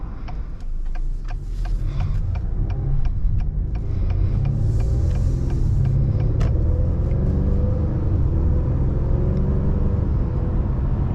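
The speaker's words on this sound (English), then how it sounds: "driving this 2022 Acura" A 2022 Acura TLX with a 2.0 turbo engine drives along, heard from inside as a steady low road rumble and engine drone with faint ticking clicks over it, and no talking.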